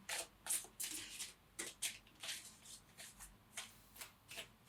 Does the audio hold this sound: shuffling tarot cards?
yes